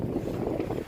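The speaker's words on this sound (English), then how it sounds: "We are rocking through the waves." A sailboat rocks through waves in heavy wind, the hull and water surging under a constant roar of wind buffeting the microphone, loud and close, with no talk.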